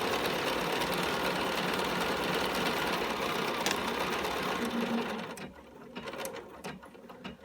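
A sewing machine topstitching the front pocket of denim jeans runs in a steady, fast mechanical whir close by, then stops and gives way to a few faint clicks and handling noises.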